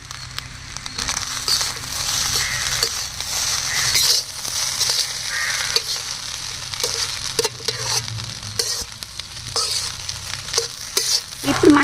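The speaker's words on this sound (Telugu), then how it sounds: "ఇలా వేసిన తర్వాత హై ఫ్లేమ్ మీద ఇలా బాగా కలపాలండి." Chicken fried rice stirred in a pan over high flame, with a steady sizzle and repeated scraping and tossing strokes of a spoon against the metal, fairly loud and continuous with no talking.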